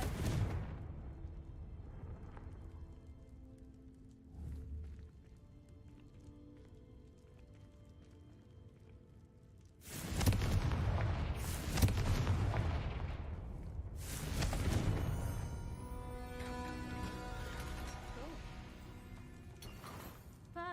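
Confringo spell blasts in Hogwarts Legacy, a few sharp explosive impacts bursting out of a quiet stretch, the loudest arriving in two heavy booms with crackling debris tails.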